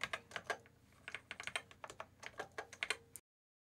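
Keys clatter on a Yamaha CX5m computer keyboard as cursor keys are pressed repeatedly, a close, quiet series of irregular clicks in quick succession that stops abruptly.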